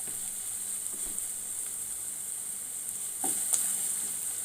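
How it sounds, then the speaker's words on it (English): Onions sizzle steadily in a pan for a Chettinad chicken dish, with a faint continuous frying hiss and a few soft scrapes as the spoon stirs, growing slightly louder near the end. "We need to ensure that the onions are nicely fried till they are transparent."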